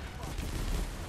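Gunfire in the Planetside 2 video game, a dense rattle of rapid distant-sounding shots with low booms underneath, continuous and moderately quiet.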